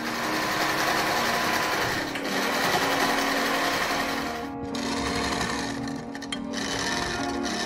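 A sewing machine stitches dress seams at home, a steady close mechanical whirr with rapid needle chatter running almost continuously, with two brief dips in speed near the end.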